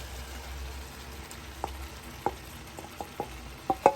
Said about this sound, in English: So we're just going to add the tomatoes.